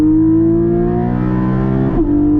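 A 2021 Porsche Cayman GT4 with PDK gearbox and mid-mounted engine revs on throttle inside the cabin, a steady loud rising engine tone that briefly dips near the end as a gearshift comes through.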